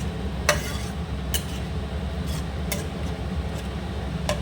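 Curd being mixed into a pan for curd rice: a handful of sharp spoon-against-pan clinks at irregular intervals over a steady low hiss, no voices.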